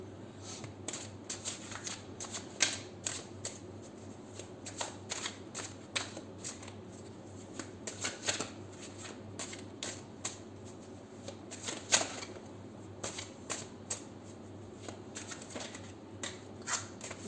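Repeated riffling and soft slapping of tarot cards being shuffled, a steady rustling flurry with sharper snaps at intervals, close and alone.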